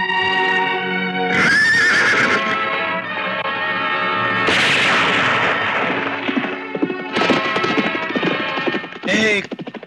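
Loud gunshot blasts ring out in a Hindi feature film scene, two sharp cracks each followed by the shrill whinny of horses, up close with no voices.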